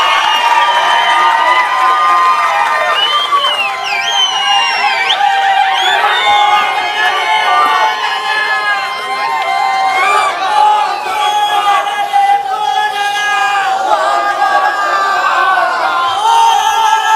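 A large crowd at a political rally in Phaltan cheers and shouts loudly and continuously, with whoops and overlapping voices sustained throughout; no distinct clapping rhythm stands out.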